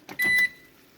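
An oven being set to preheat gives a short electronic tone of about a quarter second after a faint button click, close and clear, then quiet.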